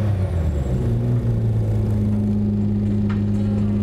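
Lamborghini Countach engine running steadily while driving, a loud continuous low rumble with a strong steady hum and no talk over it.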